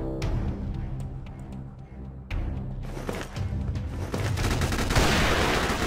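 BK44 gunfire in the shooter game Chiến Dịch Huyền Thoại, a steady run of rapid shots and sharp cracks with occasional booms, loud and continuous throughout.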